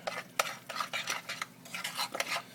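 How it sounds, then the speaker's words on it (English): A spoon stirring pumpkin strudel filling in a pan, quick uneven scraping and clinking strokes close by with a faint sizzle underneath. "I'll give this a little more of a stir"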